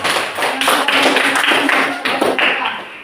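A classroom group claps for the presenting students, a dense patter of hand claps running steadily for about three seconds with a faint voice beneath.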